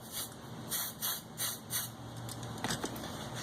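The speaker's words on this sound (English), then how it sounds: "So I'm just spray some of this on here." Several short bursts of spraying hiss come in quick succession as paint is sprayed onto a Battlestar Galactica Viper MK1 plastic model kit, fairly faint and close, followed by a few softer rubbing sounds.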